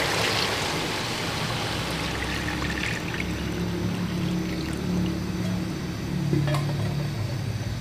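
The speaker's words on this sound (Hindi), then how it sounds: "अब यहाँ पे हम इसमें 8 गिलास के करीब पानी डाल देंगे।" Water poured steadily into a large pot of browned mutton and softened tomatoes for pulao, a continuous close trickling stream with a faint clink near the end and no talking.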